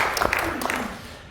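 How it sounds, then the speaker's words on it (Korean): A church congregation gives a short round of applause during a Sunday worship service, the clapping moderately loud and mixed with a speaking voice before it tapers off. "박수로 축하드립니다"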